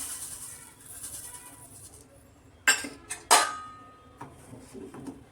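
A spoon clinks sharply against a metal pot a few times while sugar is stirred into simmering rice and milk kheer, bright close knocks over a quiet kitchen background.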